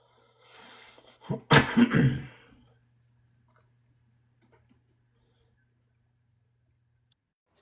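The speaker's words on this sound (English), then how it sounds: "I had to blow my nose." A short burst of nose blowing, a couple of forceful snorting puffs close to the microphone, followed by near silence with a faint hum.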